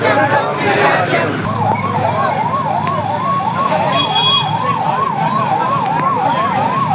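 An ambulance siren wails in a steady rising-and-falling pattern as it passes a street protest in Huzurabad, loud and continuous over crowd noise and background voices.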